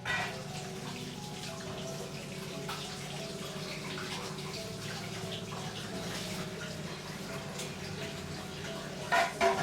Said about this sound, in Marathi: तर आता मी पटकन वॉश बेसिन क्लीन करून घेते